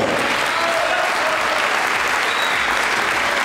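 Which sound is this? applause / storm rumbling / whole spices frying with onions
applause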